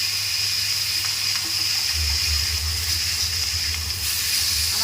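Steady, loud sizzling of fish frying tandoor-style in hot oil in a pan, a continuous hiss with a low hum underneath and no voices.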